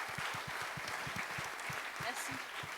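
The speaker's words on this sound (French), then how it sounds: "Eh ben, on applaudit très très fort Erwan" An audience at the West Web Festival applauds Erwann Mentheour: dense, steady clapping from a seated crowd fills the whole stretch without letting up, carried along by a low rhythmic pulse underneath.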